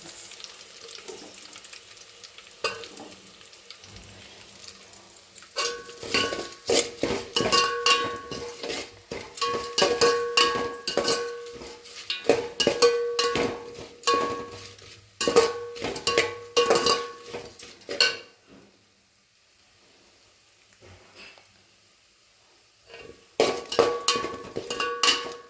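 Curry leaves fry in hot oil with ginger-garlic paste for bagara rice: bursts of sharp crackling and spattering that start after a quiet opening, pause briefly, then return near the end, close with no speech.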